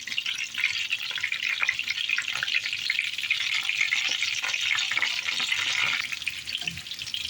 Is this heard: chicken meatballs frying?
yes